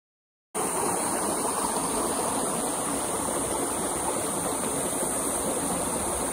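Canyon stream in Andreas Canyon, Palm Springs, rushing steadily as a loud, unbroken wash of running water that starts abruptly and fills the clip, with no voices.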